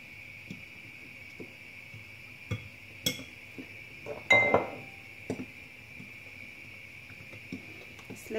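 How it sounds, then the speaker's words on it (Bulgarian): Flour, salt and sugar are stirred together in a bowl as the dry ingredients for a buttery bread: faint, sparse taps and clinks of a utensil against the bowl, with one louder clatter midway. "Към брашното си слагам солта, захарта, смисъл сухите съставки, си ги смесвам по този начин."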